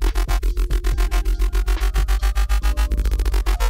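Serum synth riddim bass with the pitch LFO switched off, a loud buzzing bass pulsing in fast, even repeated stabs with a deep sub underneath, the pattern quickening toward the end, no voices.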